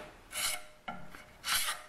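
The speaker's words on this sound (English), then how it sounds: "You're going to just turn it while you scrape off a little more." A steel bark spud log peeler made from a truck spring is scraped smooth with a file or scraper, giving two close, rough rasping strokes separated by a brief softer scrape.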